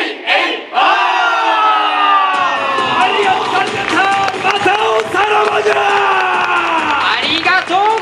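A crowd of samurai warlord performers and spectators at a Nagoya show shouts the ei-ei-oh victory cry, loud massed voices rising and swelling together in repeated chanted calls.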